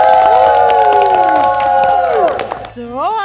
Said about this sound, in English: Can we get a round of applause for Daron?